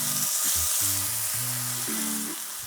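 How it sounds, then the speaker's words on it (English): Steak sears in a very hot pan with butter, giving a loud, steady sizzle that is broken by a few low tonal thumps and knocks of the pan. "The pan is seriously hot. In goes the steak."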